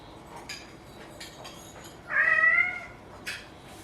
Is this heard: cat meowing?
yes